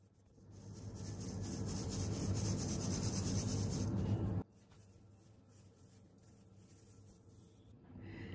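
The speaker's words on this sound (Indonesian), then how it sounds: "Oke, ini gula halus ya. Aku ayak dulu." Powdered sugar sifted through a sieve while making lidah kucing cookie dough: a steady, close, scratchy rubbing for about four seconds that stops abruptly, leaving only faint room noise.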